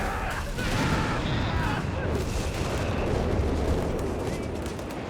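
Grenade explosions in the Company of Heroes 3 strategy game: dense, rumbling blasts and gunfire rolling continuously through a loud battle soundscape, with a commentator's voice faintly mixed in.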